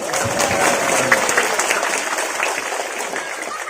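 An audience at a religious study gathering breaks into steady, loud applause from many hands close by, with a faint voice briefly audible over the clapping early on.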